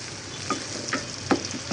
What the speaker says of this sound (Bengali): এখন একটু ফোড়ন দিয়ে দিচ্ছি পেঁয়াজ আর রসুনের